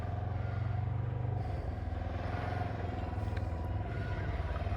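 A 2021 Can-Am Ryker three-wheel motorcycle engine runs close and steady with a low rumbling throb that shifts slightly as the throttle changes.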